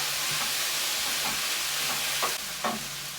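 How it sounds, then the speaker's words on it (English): Black beans and tofu with their liquid hit a red-hot wok in a Chinese takeaway-style stir-fry, sending up a loud, steady sizzle broken by a few scraping stirs. "It's a nice red hot wok, that is. So in go my black beans."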